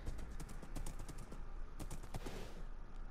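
Horse hooves clip-clop in Minecraft, a quick, steady run of crisp clacking steps that sounds like rapid tapping, with no talking over it.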